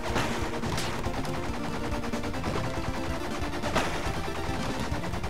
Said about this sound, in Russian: что-то скорость стрельбы, по-моему, слишком большая для двойного пистолета